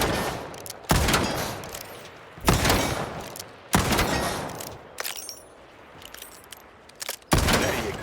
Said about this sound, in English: start by firing your weapon. Go ahead. Take some shots.